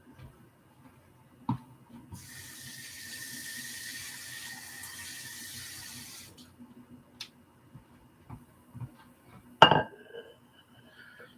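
Tap water runs steadily into a pot for about four seconds while a potato-and-lemon snack is prepared, followed by a sharp clink of kitchenware and a few quiet knocks.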